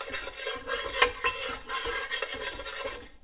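Steady scraping stir of a browning roux in a pot for catfish court bouillon, a continuous rasping swirl with small spoon knocks against the metal, close and alone.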